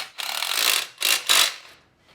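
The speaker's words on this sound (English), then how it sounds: "now we can tighten this one up too" Wrench work on a bolt on the engine bracket of a Willys Jeep during reassembly of the motor: a few close scraping, rasping strokes, one long pull followed by two short ones, then quiet.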